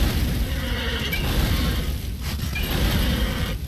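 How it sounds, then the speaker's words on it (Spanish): A horse whinnies and snorts loudly in the action game Darksiders, set against a constant rumbling, windy game backdrop with faint mechanical sounds, close and prominent for a few seconds. "¡Corre, caballo!"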